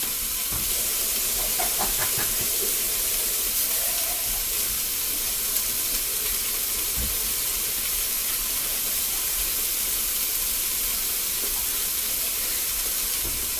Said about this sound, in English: So I am going to just drain and rinse my kidney beans.